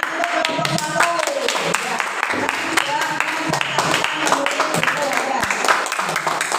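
A classroom audience claps for group one, a dense run of sharp hand claps throughout, with voices mixed in underneath.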